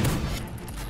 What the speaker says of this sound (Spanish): Esto es una escopeta